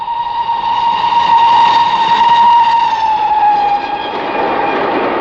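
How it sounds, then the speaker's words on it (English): A train passes close by, a loud steady rumble carrying a sustained whistle-like tone that holds for several seconds before fading, with no voices. "the murderer could have taken the opportunity of a passing train. No one would hear the shot."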